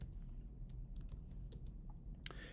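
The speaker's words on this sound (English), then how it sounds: "And let me just type in reset first." Someone types a reset command into Sage on a computer keyboard, with a quick run of soft, close key clicks at an uneven rhythm over a steady low background hum.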